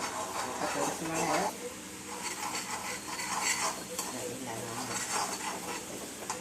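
Onion and tomato bubbling in oil in a pan for egg rice, a soft sizzle with repeated spoon scrapes and clinks against the pot, fairly quiet and close, with a voice faintly present.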